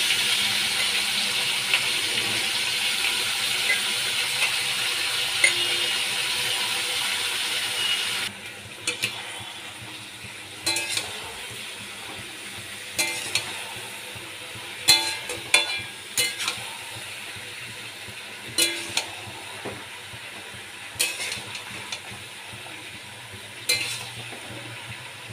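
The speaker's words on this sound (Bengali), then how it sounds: "গরম তেলের মধ্যে আমি এবার মাংসগুলো দিয়ে দিচ্ছি। মাংসগুলো আমি ভালো করে কষিয়ে নেব।" Mutton pieces fry in hot oil, first with a strong steady sizzle, then a quieter hiss punctuated by repeated scraping and clanking as they are stirred in the pan.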